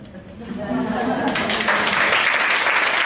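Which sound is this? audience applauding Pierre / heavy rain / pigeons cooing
audience applauding Pierre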